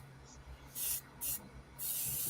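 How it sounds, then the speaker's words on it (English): An Avanti airbrush gives three short bursts of airy spray hiss, close and soft, with quiet pauses between them. "he's got a new airbrush. It's an Avanti for the price point."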